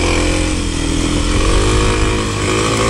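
A Kawasaki KLX 300 dirt bike rides along a trail, its engine droning loudly and steadily close up with slight rises and dips in revs.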